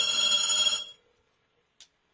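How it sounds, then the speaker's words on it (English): A telephone rings on a Cisco Unified Border Element test call just after dialing: one loud, bright electronic ring lasting under a second, then silence broken by a brief faint chirp. "I'm going to go ahead and dial the other phone"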